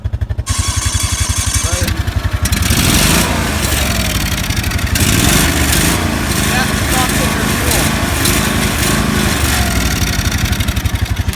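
A small engine on a tractor that is being refueled runs loud and close, chugging at idle, then rising into a sustained rev before dropping back to a rapid, pulsing idle.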